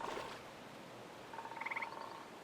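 A frog croaks in a nature scene from the video game Retreat to Enen, a faint, quick run of pulsed croaks over a soft ambient background.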